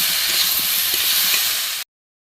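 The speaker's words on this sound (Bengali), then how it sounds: "এবার ভালো করে একটু কষিয়ে নেবো।" Vegetarian curry of potol (pointed gourd) and soybean chunks, sweetened with sugar, being sautéed in a pan: a steady, close hiss and sizzle with faint stirring, ending abruptly.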